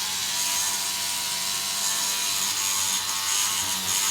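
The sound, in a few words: Rubbermaid power scrubber brush running on grime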